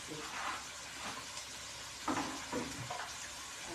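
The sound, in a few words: stirring vinegar and dried fish in a sizzling pan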